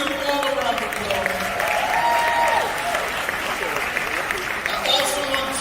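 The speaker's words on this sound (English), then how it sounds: "Let's give them all a round of applause." An audience at a hip hop alliance morning show event claps in sustained applause that stays loud and even for several seconds, with some voices mixed into the crowd noise.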